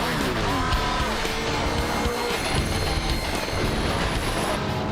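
A 400 bhp Ferrari 360 Modena being driven hard on a racetrack, its engine note rising and falling steadily with a continuous loud roar and road rumble. Speech can be heard faintly.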